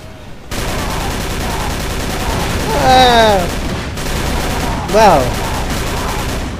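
Gunfire from a gun in the Call of Cthulhu video game forms a loud, sustained rattling burst, with two sharp whistling sweeps over it, and a voice speaks briefly.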